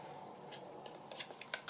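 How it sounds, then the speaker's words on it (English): Strong scissors cutting through paper for a craft folder: a few quick, faint snips near the end after a quiet start. "let's just get me strong scissors just to cut"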